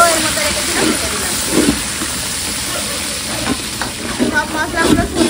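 Green chilli, grated ginger and spices frying in hot oil in a pan give a steady loud sizzle and hiss, with occasional stirring scrapes breaking through.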